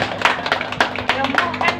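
Brief bursts of hand clapping from an audience at a business motivation seminar, uneven and lively, with a voice over them.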